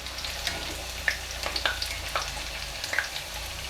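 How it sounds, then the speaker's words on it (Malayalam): Puri fries in hot oil, a continuous close sizzle dotted with sharp pops and bubbling crackles at irregular intervals. "ഇപ്പം ഇതാ എണ്ണയിലിട്ടിട്ട് കുറച്ച് നേരം കഴിഞ്ഞപ്പോഴേക്കും പൂരി നന്നായിട്ട് പൊന്തി വന്നിട്ടുണ്ട്"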